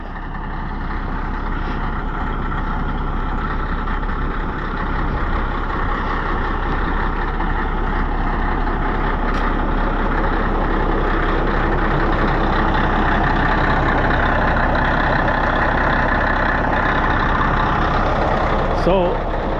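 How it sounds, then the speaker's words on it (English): A truck engine running rough and firing on only one cylinder after water got into it, a steady low rumbling idle heard close for the whole stretch, with a person talking over it. "It's turning over. You heard it. It's only hitting on one cylinder."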